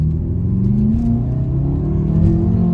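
A BMW M5 F10 pulls hard under acceleration with wheelspin, giving a loud, deep, steady engine drone from inside the car, with no voices.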